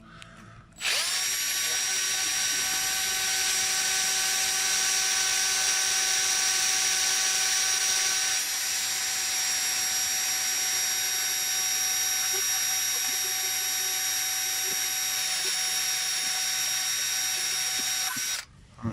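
A power drill whines at a steady high pitch for a long, continuous stretch, grinding into the metal reluctor ring at the front right wheel sensor of a 2006 Volkswagen Jetta, close and loud, stopping briefly only at the end.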